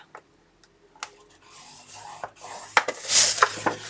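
A scoring tool is drawn along 6 by 10 inch cardstock to crease it in half, heard as light taps and then a dry, rising rub and scrape near the end, close and fairly quiet.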